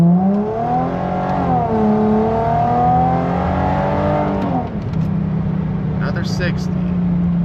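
A stock Chrysler Crossfire SRT-6 accelerating hard from a launch, engine revs climbing loudly through several gears with shifts between, then settling to a steady high drone, heard from inside the car.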